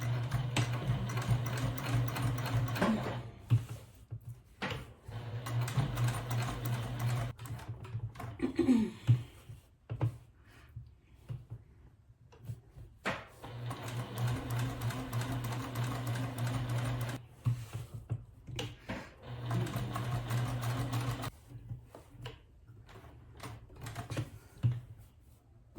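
A sewing machine stitches along the edge of a fabric piece for a table silverware holder, running in steady rapid bursts with short pauses between runs, close and mostly alone.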